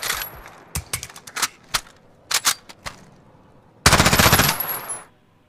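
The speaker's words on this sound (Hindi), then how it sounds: "एंड यार ये है P90 SMG।" A P90 submachine gun fires in a video game, with several short automatic bursts and scattered single shots, then one long, loud sustained burst near the end, all clear and up close with no talking.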